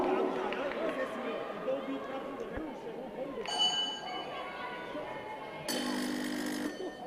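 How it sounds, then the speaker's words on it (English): A boxing ring bell sounds at the IBA Women's World Boxing Championships as a ringing clang at about 3.5 seconds and again near 6 seconds, heard over a busy arena crowd and ringside commentary. "Something wrong with the bell, I guess."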